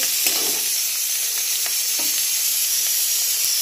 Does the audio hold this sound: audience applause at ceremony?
no